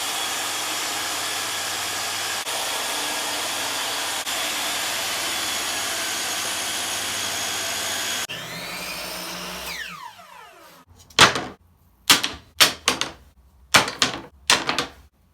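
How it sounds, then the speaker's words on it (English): A table saw rips through 1/4 inch MDF: a loud, steady broadband whine runs for about eight seconds, winds down, then gives way to a run of sharp, separate bursts near the end. "we're going to cut down on the table saw into some different pieces"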